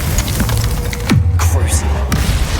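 A Glacius freezing spell cast in Hogwarts Legacy, a loud booming impact with a descending swoosh midway, over a dense, continuous game soundscape with a shouted voice.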